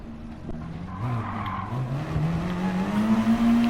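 A GT3 race car spins out in the racing video game Gran Turismo, its tires squealing in a long, rising skid over a steady engine drone, loud and close with no talking.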